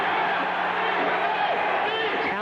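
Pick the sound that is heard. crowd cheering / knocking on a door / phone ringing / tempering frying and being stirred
crowd cheering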